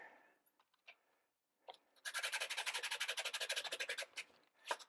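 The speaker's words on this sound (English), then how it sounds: "Low abrasive sandpaper, kind of clean off the gunk." Low-abrasive sandpaper rubbed rapidly back and forth over bicycle brake pads on a 24-inch Diamondback Division bike, a close, steady run of about twenty rhythmic rasping strokes after a few faint scuffs.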